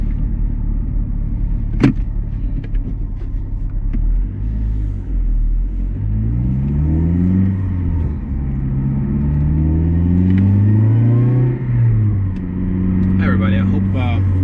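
A modified car engine rumbles and accelerates under way, its tone climbing and dropping through several gear changes as it revs harder, heard from inside the vehicle under a steady road roar.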